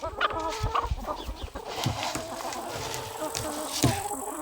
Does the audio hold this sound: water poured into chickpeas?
no